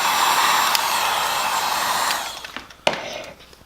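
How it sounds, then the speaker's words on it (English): Close, steady whoosh of a heat gun warming vinyl wrap on BMW E90 interior trim, blowing for about two seconds before cutting off, followed by a few small handling clicks and taps. "So I've got my heat gun, and what I'm doing is I'm just heating it up"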